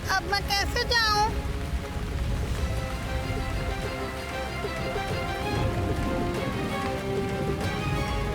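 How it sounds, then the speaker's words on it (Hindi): Steady heavy storm rain pours throughout, with a voice-like melodic sound briefly at the start and busy background noise. "इस समय ये तूफान और बारिश कहाँ से आ गई?"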